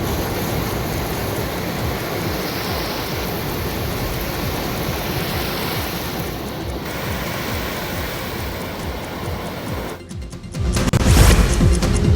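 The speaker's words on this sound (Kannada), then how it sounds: "ಕಡಲ ತೀರಕ್ಕೆ ರಕ್ಕಸದಂತಹ ಕಡಲ ಅಲೆಗಳು ಅಪ್ಪಳಿಸ್ತಾ ಇದ್ದು" Huge, rough sea waves pound the shore in a continuous broadband roar, with a louder crash surging near the end; no voices.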